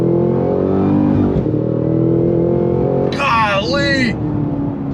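A 2022 Cadillac CT5-V Blackwing accelerates hard in second gear in a straight line, a loud, close, rising engine roar with excited speech over it partway through.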